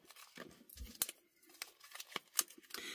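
Memory game cards are shuffled by hand close by, giving quiet irregular clicks, snaps and papery scrapes with brief pauses between them.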